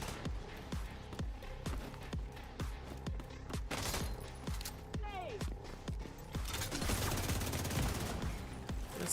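Rapid bursts of automatic gunfire from a Division 2 firefight rattle steadily in a regular rhythm, with denser, louder shooting toward the end and voices talking over the combat.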